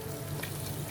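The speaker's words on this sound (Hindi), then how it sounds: "मैं अब इसमें डालने लगी हूँ तड़का।" Hot tadka tempering poured into simmering masoor dal, a dense, close sizzle that hisses continuously throughout.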